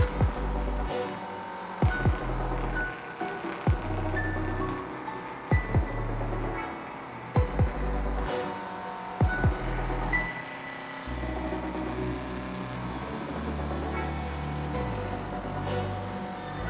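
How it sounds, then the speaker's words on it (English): A tattoo stencil printer runs through a print job, giving a steady mechanical hum with a short rhythmic thump roughly every two seconds, close and alone with no talk. "the printer is gonna start printing now"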